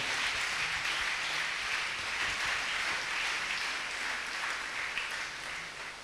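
A church congregation cheers and applauds for the Lord, a dense, steady roar of clapping and shouting that stays loud and continuous throughout, easing slightly near the end.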